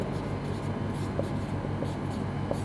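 Steady scratchy writing on a board during a biology class, a continuous close rasp of strokes lasting throughout with faint room noise and no clear talking.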